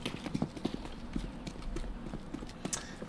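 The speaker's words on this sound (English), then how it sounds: "You have a horse!" Horse hooves clip-clopping in the game CS:GO, a quick run of light, sharp hoofbeats at a steady trotting rhythm, close and fairly clear over faint game background noise.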